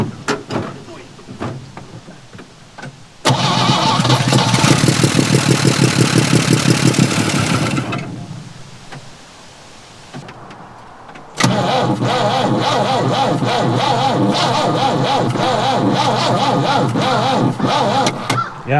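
A vintage GMC C30 dump truck engine, left sitting for 30 years, cranks and runs loud and close in two long bursts at high RPM, separated by a quieter pause with talk in the background.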